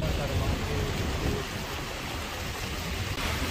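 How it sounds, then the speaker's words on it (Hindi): Light drizzle falling on a mountain road in Himachal Pradesh, a soft continuous hiss of rain with low rumbling background noise. "बूंदाबांदी वाली बारिश अभी भी हो रही है।"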